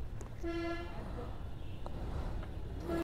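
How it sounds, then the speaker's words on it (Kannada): On the Kolli Hills hairpin road, a bus gives one clear, tonal honk near the start, then quieter road rumble follows as it goes by. "ಬಸ್ಸು"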